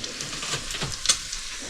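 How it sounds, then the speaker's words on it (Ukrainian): Meat frying in a pan for borscht gives off a steady, close sizzle and hiss, with a few faint clinks over the top. "Обсмажує тут м'яско на борщ"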